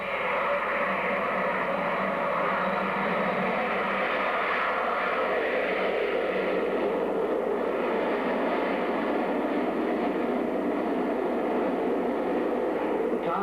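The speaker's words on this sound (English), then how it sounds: "as the aeroplane begins its third takeoff run" A loud, continuous airplane engine roar that holds steady and broad throughout, like an aircraft accelerating down a runway.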